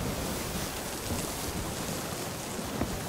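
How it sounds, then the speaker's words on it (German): High waves on the open sea in the pirate video game Sea of Thieves, a continuous broadband wash of surf and wind, steady and moderately loud, with no voices. "Hier sind so hohe Wellen"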